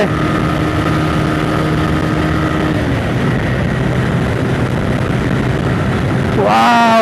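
A TVS Raider 125cc motorcycle revving hard while racing a Fazer 150, a loud continuous engine drone that holds steady and then climbs sharply in pitch near the end.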